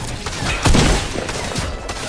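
Rapid burst of gunfire in a Fortnite match, several loud close shots clustered together with a heavier blast near the middle, no talking.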